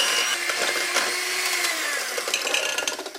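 An electric mixer creams egg whites, egg yolks and cane sugar in a bowl, making a loud, close, steady whir with faint rattling toward the end.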